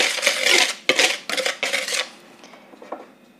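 A utensil stirs cinnamon into carrot cake batter with quick scraping, clinking strokes against the bowl, several brisk bursts that fade into softer light taps.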